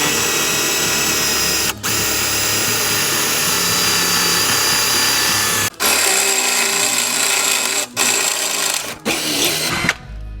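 A power drill bores a 5/16 inch hole during a Rock Krawler lift kit install on a 2015 Jeep Wrangler Willys, giving a loud, steady whirring broken by a few brief pauses.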